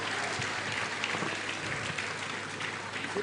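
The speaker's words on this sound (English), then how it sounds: "Please, can we keep clapping for him?" Sustained audience applause fills a conference hall at a safety conference in Lagos, a dense, steady wash of many hands clapping with no pauses across the whole stretch.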